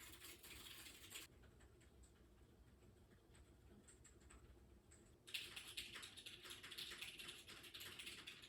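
Clicky typing on a mechanical keyboard during a gaming session, a steady patter of keystrokes, quieter in the middle stretch and turning louder and denser toward the end, with no talk.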